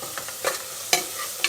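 Tomato fries in a pan with ginger garlic paste, giving a soft, close sizzle broken by several sharp scraping strokes as a spoon stirs it.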